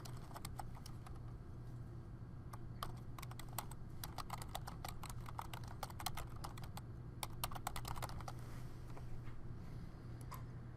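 Quick clicking keystrokes on a computer keyboard while a name is typed, close and fairly quiet, in irregular bursts of taps over a steady low hum, with no speech.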